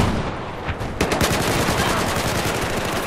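Rapid automatic gunfire from a Battlefield 4 firefight, dense overlapping bursts of shots running steadily throughout at close range and loud, with no talk over them.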